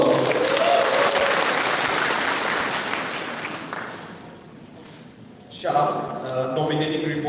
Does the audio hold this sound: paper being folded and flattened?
no